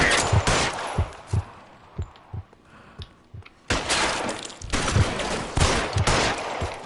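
Gunfire in L.A. Noire Remastered: a rapid series of sharp, punchy shots in a rhythmic burst, a short pause, then a denser volley of overlapping gunshots, loud and close.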